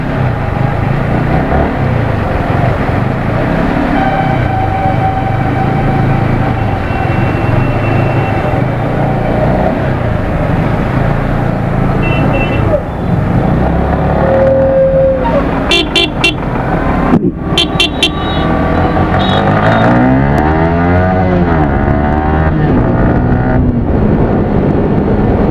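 Busy road traffic heard from a Yamaha R15 V3 BS6 2021 motorcycle ride, a constant loud engine and road rumble with several short car horn toots and a passing vehicle's shifting whine near the end.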